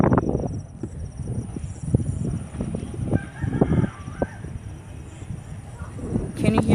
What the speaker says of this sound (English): Can you hear the roosters?